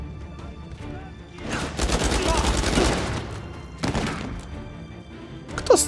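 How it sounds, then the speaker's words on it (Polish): Sustained burst of gunfire in Uncharted 4, a rapid fusillade of shots rattling for a couple of seconds, then a second shorter volley, with a voice talking faintly underneath. "Kto strzela?"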